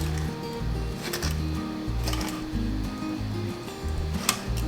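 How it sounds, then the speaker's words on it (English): A hand pepper grinder cracks pepper over a bowl in a kitchen, making repeated gritty grinding bursts in an uneven rhythm, heard close and moderately loud with no talk. "Grinding up the pepper."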